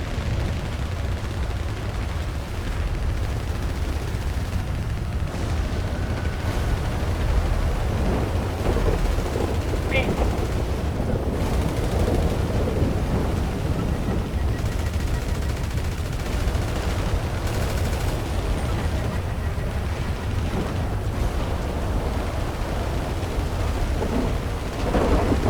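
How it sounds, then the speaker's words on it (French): Guided missiles firing and exploding in a video game, a dense, continuous roar of booming blasts and rumbling, like a constant barrage of explosions, loud and steady throughout. "attention, ils tirent des missiles téléguidés."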